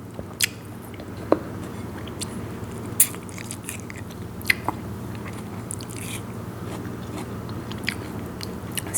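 Crunchy biting and wet chewing of a Thai star gooseberry salad pounded with fermented fish, close and steady, with sharp crisp bites scattered through the chewing and no talk.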